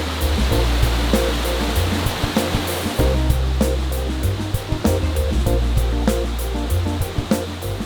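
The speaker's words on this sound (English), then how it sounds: "we still had more deep, rushing streams to cross through." Deep rushing mountain stream in the Great Smoky Mountains, a loud, continuous close-up wash of water with a low churning rumble and scattered splashes.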